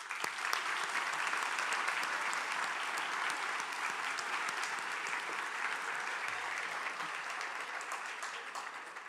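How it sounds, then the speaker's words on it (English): Steady, even applause from a crowd at a graduation ceremony, sustained clapping heard from a distance that holds at a constant level for about nine seconds. "Let's give all these people a big round of applause."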